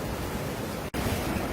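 Large sea waves give a constant, loud, broad wash of surf and rushing water, broken once by a brief dip.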